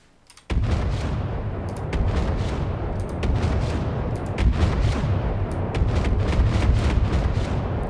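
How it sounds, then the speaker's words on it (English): Big naval APS advanced cannon in From the Depths, a dense run of heavy gun blasts with echo starting after a brief quiet moment, booming continuously with sharp repeated reports. "not a big autocannon, but a big naval gun with an echo"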